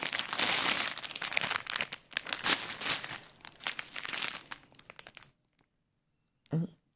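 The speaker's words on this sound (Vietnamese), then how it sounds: "Mình sẽ bóc ra luôn." Crinkly plastic wrapping on a soft bread roll with a creamy pork-floss filling is peeled and torn open up close, giving about five seconds of continuous rustling and crunching, then near silence and one last brief crinkle.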